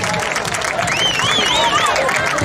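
A crowd applauds and cheers for the third-placed team at a beach handball trophy ceremony in Moaña, a steady, dense wash of clapping mixed with voices and whistles that runs the whole length.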